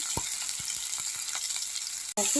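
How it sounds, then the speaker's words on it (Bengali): Potatoes frying in a pan with tempering spices give a steady, fairly loud sizzle with scattered soft pops and crackles, ending in a sharp utensil clatter near the close; no voices. "আমার আলুগুলো অনেকটা ভাজা ভাজা হয়ে গেছে"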